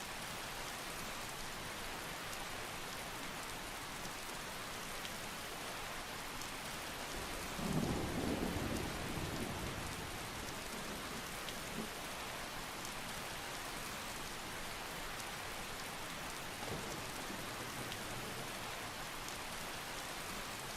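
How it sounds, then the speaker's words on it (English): Medium rain with thunder in the video game Skyrim, a steady hiss of rainfall throughout and one deep rumble of thunder partway through, with no voices. "Medium rain."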